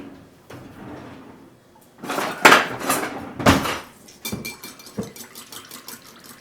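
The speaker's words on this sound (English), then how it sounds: "I'm going to stir it up real good." A spoon stirs about 32 ounces of maple syrup mixed with cinnamon in a homemade immune syrup. Soft scraping is broken by several close, hollow clunks and knocks against the pot, uneven in rhythm.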